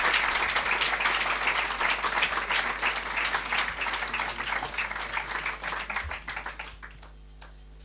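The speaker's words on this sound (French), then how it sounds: "On va les applaudir bien fort." Audience at a talk on Sufism applauding the two speakers: loud, dense crowd clapping that gradually thins and fades out toward the end, leaving a quiet room.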